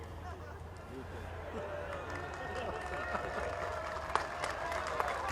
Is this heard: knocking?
no